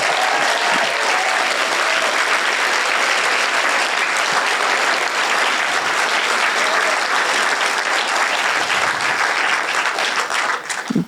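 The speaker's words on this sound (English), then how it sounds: "can we have just a round of applause for all 10 of our presenters?" Audience at a PechaKucha Night in Burlington giving a long, dense round of applause for ten presenters, loud and sustained throughout before easing slightly at the end.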